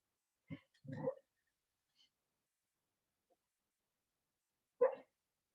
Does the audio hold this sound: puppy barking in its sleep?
yes